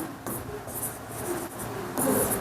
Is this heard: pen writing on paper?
yes